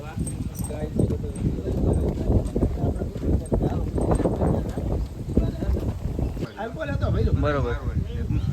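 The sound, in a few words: horse hooves clip-clopping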